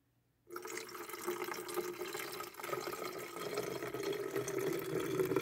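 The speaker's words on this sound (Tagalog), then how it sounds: "magdagdag ako ng tubig hanggang dito." Water runs steadily into a container after a brief silence, a continuous splashing pour that stays fairly even and close for several seconds.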